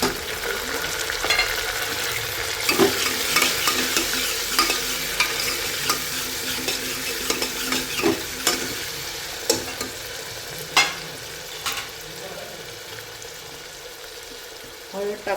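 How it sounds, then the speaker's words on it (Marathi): Tomatoes and garlic sauté in a pan for misal with an even frying sizzle, while a spatula clacks and scrapes against the pan at irregular intervals all the way through. Nobody speaks. "दोन मिनिटं परतून घेऊया."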